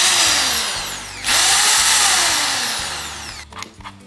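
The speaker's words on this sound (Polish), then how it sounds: "kupiłem wiertarkę" A newly bought electric drill runs loudly and alone in a home at Christmas, with a high whirring spin that rises, dips and spins up again before a brief stop.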